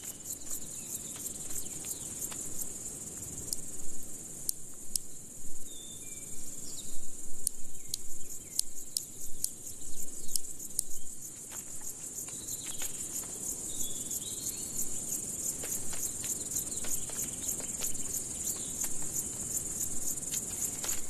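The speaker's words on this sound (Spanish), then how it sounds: "La pareja de saltamontes de los pantanos marcha a través del terreno húmedo" Marsh grasshoppers in a wet peat bog give a steady, high insect stridulation throughout, with faint scattered clicks and chirps over a low outdoor background hum.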